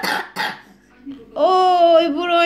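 A child gives two short, sharp coughs close by, followed by a pause and then a long, high-pitched vocal whine.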